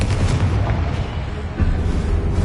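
Confringo fire spell blasts in Hogwarts Legacy, a dense, rumbling burst of explosive booms filling the whole moment, loud and close with a second surge near the end.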